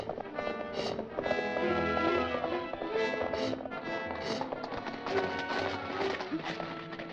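Horses' hooves clip-clop at a walk on a dusty road at an Old West stop, a steady close rhythm of hoof taps mixed with background music.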